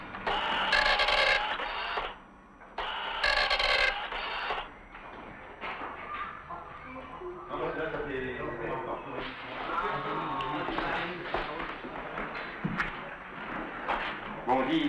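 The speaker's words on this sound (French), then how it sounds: "Alors, cette courbe, on va l'imprimer." Office printer in a 1986 maintenance setting, printing a curve: bursts of mechanical whirring in the opening seconds, then a busier stretch of machine clatter with voices talking over it.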